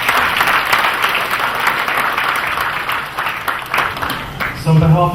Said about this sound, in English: Let's have a round of applause for Priya again.